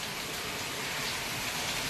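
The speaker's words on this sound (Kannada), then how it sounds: "ಚಿಕ್ಕಮಗಳೂರಿನಲ್ಲಿ ಧಾರಾಕಾರ ಮಳೆ" Heavy rain in Chikmagalur pours down as a dense, even hiss of steady drops, constant throughout the short stretch with no voices.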